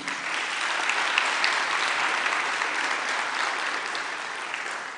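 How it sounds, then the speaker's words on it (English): Sustained audience applause fills a university welcome and oath-taking ceremony as the Dean is honoured, a steady dense wash of clapping from a large crowd at moderate distance, holding evenly for several seconds before easing slightly. "Another round of applause for our Dean."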